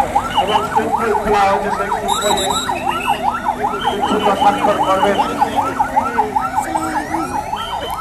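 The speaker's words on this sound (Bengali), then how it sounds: "অ্যাম্বুলেন্স তার বাড়ির দিকে এগোচ্ছে" An ambulance siren wails in fast, regular rising and falling cycles as the vehicle travels along a road, loud and close over a low engine hum and road noise.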